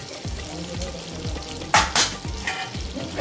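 Cumin seeds frying in a pan of butter and oil for pav bhaji, a steady close sizzle with rhythmic stirring scrapes and a couple of louder spattering bursts, no voices.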